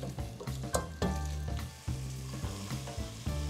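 Vegetables for a vegan chicken noodle soup sweat in a pot, giving a close, steady sizzle and frying crackle with occasional stirring scrapes, no voices.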